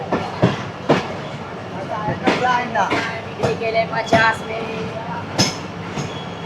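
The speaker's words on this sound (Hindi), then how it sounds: "9:08 पे 10 मिनट स्टॉप करने के बाद नवाबशाह रेलवे स्टेशन से मूव होना शुरू कर दिया ट्रेन ने।" Pak Business Express passenger train running on rails after leaving Nawabshah railway station, with rhythmic clickety-clack wheel beats and rumbling carriages heard from inside, steady and fairly loud, with some voices in the background.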